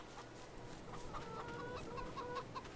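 Video game chickens on a virtual homestead cluck in short, repeated bursts over a steady low background hum, with no voices present.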